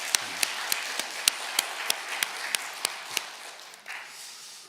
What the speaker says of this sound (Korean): 우리 하나님께 우리 감사의 박수 올려드립시다.